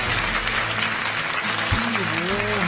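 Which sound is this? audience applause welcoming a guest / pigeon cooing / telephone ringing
audience applause welcoming a guest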